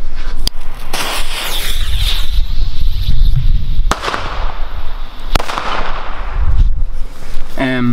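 Several sharp Chinese firecracker bangs go off close by at uneven intervals, loud cracks with echoing pops between them and wind noise underneath, on New Year's Eve.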